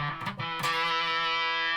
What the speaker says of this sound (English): the fuzz pedals work much better on this frequency range